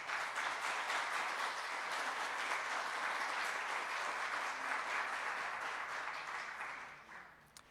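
Steady, full applause from a lecture audience honoring an expert on Chilean writer Gabriela Mistral, a dense continuous clapping that holds evenly and then tapers off at the end.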